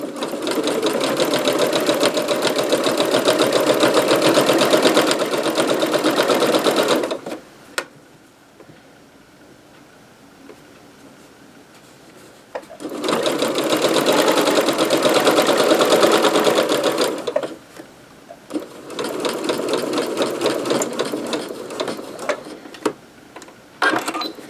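A sewing machine stitches napkins into a grocery bag, its fast rattling whir coming in two long bursts and a shorter third, with quiet gaps between runs.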